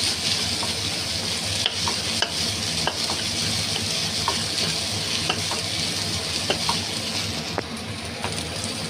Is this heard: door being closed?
no